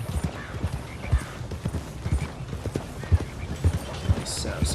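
Horse hooves clip-clop at a steady walking rhythm in Red Dead Redemption 2, close and fairly loud, with someone talking over them and a brief whinny-like sound.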